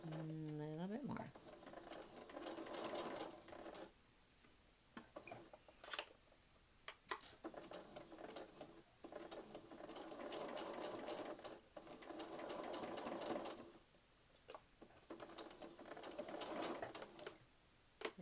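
A sewing machine stitching through dense quilting fabric, its motor whirring in bursts that start and stop repeatedly, close and steady, with a person speaking over it.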